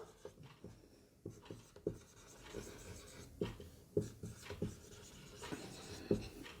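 Pen scratching on paper in short irregular strokes with small taps between them, fairly close and alone, no voices.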